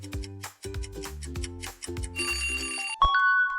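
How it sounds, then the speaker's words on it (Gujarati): A struck bell rings out in a series of clear resonant tones, each chime vibrating and fading before the next, ending in a brighter, higher ringing note. "એક ઘંટડી તેનો રણકાર અવાજ કરવા માટે શું કરે છે?"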